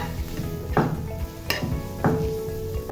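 Fried onion, garlic and chili stirred into fenugreek greens in a pan, with soft sizzling underneath and a few sharp scraping strokes of the spatula against the metal, close up and no talking.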